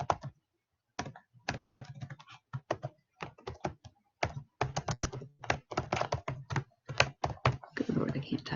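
Bursts of computer keyboard typing in uneven clusters, close and moderately loud, with short pauses between runs of keystrokes and a denser flurry near the end.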